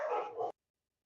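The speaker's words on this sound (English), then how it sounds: "y'all hear them dogs. They're going crazy." A dog barking excitedly, one or two quick close yapping barks that run together briefly and then cut off into silence.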